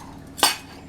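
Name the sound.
mixing homemade taco seasoning in a bowl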